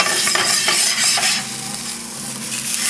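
Sausage frying in a non-stick pan under a lid, a dense close sizzle with light stirring scrapes, slightly muffled in the middle stretch and with no talk.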